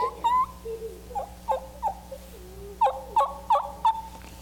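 A hunting call imitating a wild turkey: a series of short, soft yelps and clucks, spaced irregularly at first and then in a tighter run of four or five notes, heard up close with no talking.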